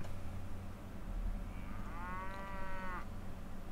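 A cow moos once in a long, drawn-out low call amid a farm scene in Mount and Blade, over faint background noise, with no talking.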